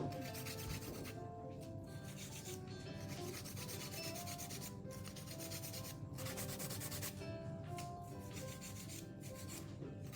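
180 grit nail file scraping under the side wall of a fingernail, a quiet rapid rasping with short back-and-forth strokes and brief pauses, close-up with no talking.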